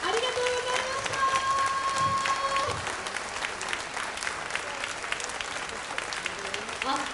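Audience applause follows a jazz quartet's performance at a live show inside JR Sendai Station, a dense crowd of clapping that starts loud and tapers slightly, with some voices and a lingering instrument tone.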